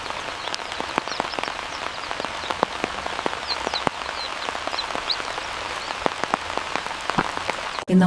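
Steady soft rain patters over countryside fields, a dense even hiss with scattered sharper drops throughout and faint bird calls above it.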